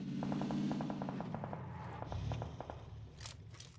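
Gunfire in the mobile battle royale game PUBG Mobile on the Sanhok map, a rapid series of sharp automatic shots in two bursts over a low engine-like drone, followed by a couple of brighter clicks near the end.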